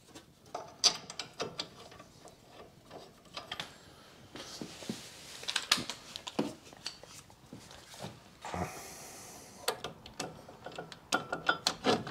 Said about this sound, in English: Check that with a ratchet.